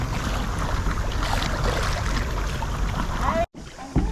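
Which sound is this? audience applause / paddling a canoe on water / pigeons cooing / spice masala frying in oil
paddling a canoe on water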